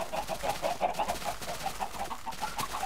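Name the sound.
chickens clucking on a chicken farm in video game Minecraft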